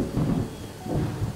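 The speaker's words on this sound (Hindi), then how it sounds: "बारिश हो रही है।" Heavy rain falls outside while thunder rolls in two low, swelling rumbles over a constant wash of downpour, close and full, with no talking.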